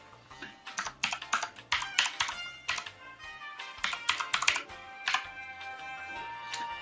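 Computer keyboard keys tapped in quick clusters while entering a Wi-Fi password, close and crisp, with short pauses between bursts of typing.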